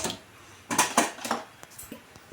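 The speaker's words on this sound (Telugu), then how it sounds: "పెనం పెట్టుకున్నాం" A metal frying pan is set down on a gas stove, giving a few close, sharp clanks and scrapes followed by lighter taps, with no talk.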